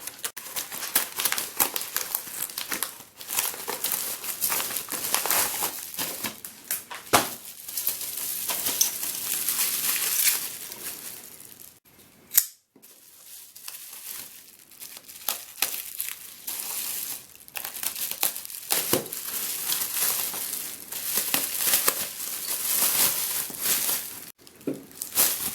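Neon yellow envelope package being opened, with dense crinkling and tearing of paper and plastic close by, in bursts across the clip with a brief pause midway.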